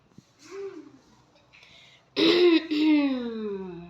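A person clears their throat loudly at close range, following softer throaty vocal noises, ending in a drawn-out voiced rasp.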